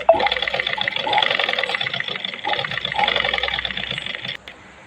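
Sewing machine stitching along a folded saree border, a close, rapid mechanical whirr in uneven bursts that slows and stops near the end.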